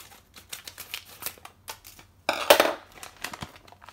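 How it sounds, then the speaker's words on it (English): Sterilised scissors snip open a foil packet of hops in a home kitchen, giving a brief crinkling, crackling burst of packaging amid quieter clicks and handling taps nearby. "open with a pair of sterilised scissors"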